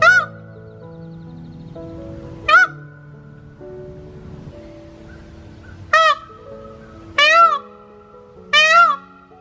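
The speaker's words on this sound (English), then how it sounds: "Peacock." Peacock calls: five loud, sharp wailing cries at irregular intervals, each a brief rising-and-falling honk standing out over a soft background of music.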